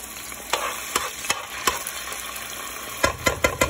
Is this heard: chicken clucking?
no